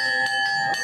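Church bells ring out at an Easter festival in Omsk, with several bright metallic strikes and long sustained tones that overlap and hum clearly with no talking.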